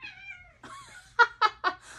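A house cat meows nearby, first with one long drawn-out call, then with a second wavering call, and finally with three short, loud meows in quick succession.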